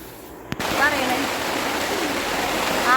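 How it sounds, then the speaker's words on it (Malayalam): Heavy rain pours down as a dense, steady hiss that holds at a constant level, broken only by one sharp knock early on. "നല്ല മഴ പെയ്യുന്നുണ്ട്."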